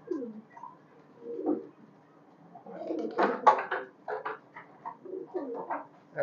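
A highflyer pigeon coos in several soft, throaty bursts close by, rising to a louder rolling phrase midway, with faint handling noise around it.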